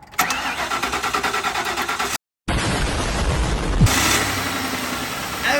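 A 2006 Ford Crown Victoria V8 cranks with rhythmic starter pulses, cuts out briefly, then fires and settles into a smooth, fairly quiet idle after a water pump replacement, close by with no talking.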